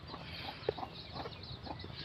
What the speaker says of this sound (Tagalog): Ayun dami niyang sisiw.